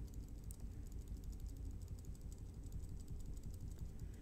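Computer keyboard arrow keys are tapped in a quick, soft run of faint clicks over a low steady background hum, close by and without talk.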